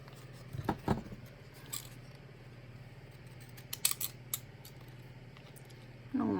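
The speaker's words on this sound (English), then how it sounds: "my little scissors, they're not what they're cracked up to be" Small scissors cutting paper snip in a few quick, sharp clicks, spaced irregularly over a faint steady hum, quiet and close.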